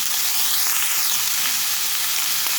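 Beef pieces sear over high heat in a steel pot, giving a loud, steady, close sizzle that runs unbroken throughout with no voices.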